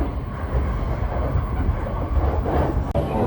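Train in Japan heading toward a hotel, with a steady broadband rumble of rail transport and a low rolling drone throughout, close and continuous with no talk.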